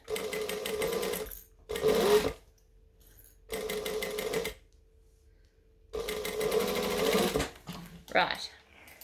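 A domestic sewing machine bastes the edge of a fabric bag shut, running in three bursts of fast, steady stitching separated by quiet pauses, with a brief voice near the end.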